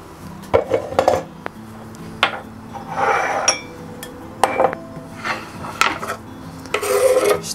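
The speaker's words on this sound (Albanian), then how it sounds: "Si fillim, grim koprin." Dill is chopped with a knife on a cutting board, a series of sharp knocks and scraping strokes in irregular bursts, close and fairly loud in a quiet kitchen.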